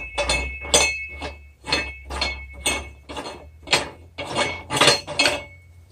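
Metal parts of a manual tire changer for 2-ply tires clink and clank while being unscrewed, about ten evenly spaced bright metallic knocks, close and fairly loud, with no talk.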